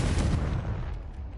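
A Confringo explosive spell going off in Hogwarts Legacy, a single heavy blast at the start with a rumbling tail that fades over about a second.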